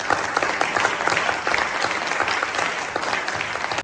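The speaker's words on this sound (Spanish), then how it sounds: "pido un aplauso para ellos" Audience applause at the opening of a convention, a dense, steady wash of many hands clapping at full strength throughout before cutting off abruptly at the end.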